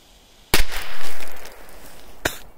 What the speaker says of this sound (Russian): Петарда, в принципе, взрывается так,